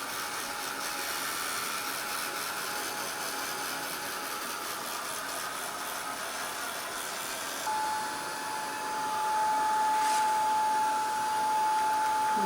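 A hair dryer blows steadily across a wet handmade card sheet, a continuous broadband whoosh that stays close and even, growing slightly louder toward the end with a faint tonal whine joining in.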